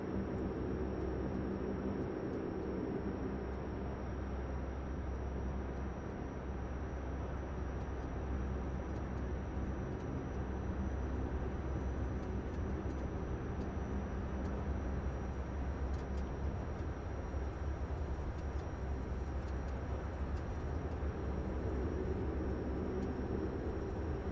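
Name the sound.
Dash 8 Q400 cockpit ambient noise in Prepar3D flight simulator video game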